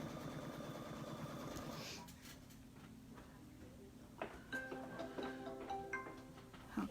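An embroidery sewing machine stitches a border, first with a fast, steady mechanical whir that stops after about two seconds, followed by quieter clicks and taps.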